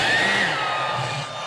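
Heat gun blowing hot air to heat-set airbrushed paint on a fishing lure, a loud steady rushing whoosh with a faint whine, easing slightly toward the end.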